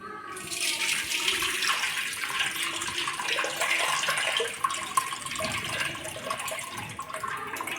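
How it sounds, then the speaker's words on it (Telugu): Water pours steadily over soaking lentils in a vessel, a continuous splashing rush that stays close and fairly loud throughout. "పప్పును మంచి ఇట్లా కడిగి ఇక దీంట్లో ఉంపేస్తున్నా నీళ్ళు"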